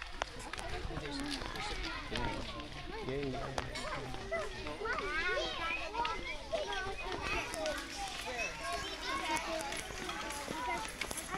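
Children playing in Eco Park, a busy outdoor wash of kids' shouts, chatter and running footsteps that stays steady throughout, with people talking nearby.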